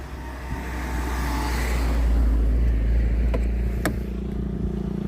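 A car approaches with a low engine rumble that swells to a peak midway, then fades as it passes, with a couple of sharp clicks near the end.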